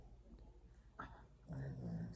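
A dog growls low and close, rumbling in short stretches that grow louder toward the end, with faint whimpering noises mixed in.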